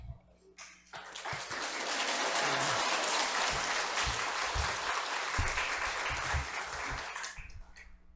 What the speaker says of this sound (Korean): 여러분, 우리 강사 목사님 올라오실 때 우리 박수로 또 할렐루야를 모시도록 하겠습니다.